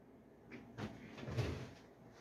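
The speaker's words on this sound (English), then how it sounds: "The drawers didn't yield anything, so I'm looking in some other places" Drawers are pulled open and shut during a search, giving a few soft, quiet wooden slides and knocks in quick succession.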